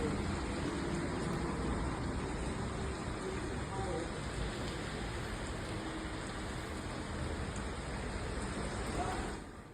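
Dense, steady monsoon rain pouring without letup in Sangameshwar, Ratnagiri, a broad even hiss that stops abruptly at the end.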